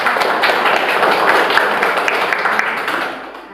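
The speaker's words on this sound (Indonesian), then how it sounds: "tepuk tangan untuk kelompok" A classroom full of students claps for a student group that has just finished presenting, a dense, steady wash of applause that holds for several seconds and thins out slightly at the end.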